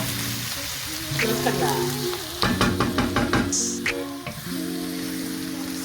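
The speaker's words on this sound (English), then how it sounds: "we're just gonna make sure we cook our garlic" Chopped garlic sizzling and frying in a hot pan, a steady crackle with stirring clatter in the middle, while a person speaks briefly over it.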